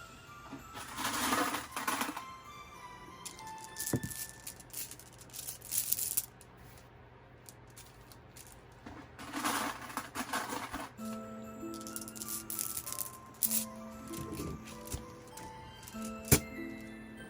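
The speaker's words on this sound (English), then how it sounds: "you want to put your flat marbles in the bottom" Flat marbles clatter into the bottom of a container in a few quick bursts of clicking and rattling, separated by quiet pauses.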